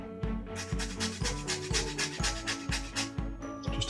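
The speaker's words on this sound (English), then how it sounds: "So what we need is just the zest of one orange" An orange being zested for a no-bake cheesecake, with a steady run of quick rasping strokes against the grater repeating about every half second over a soft musical backing.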